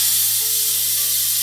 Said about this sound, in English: So we're releasing the steam